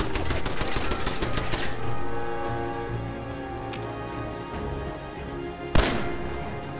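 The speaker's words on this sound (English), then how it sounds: "do I kill the stupid turret that's gonna start shooting at me?" A machine gun turret in Fallout 4 fires a rapid burst of crackling shots, then the noise settles into a steady low rumble, broken later by one sharp loud report.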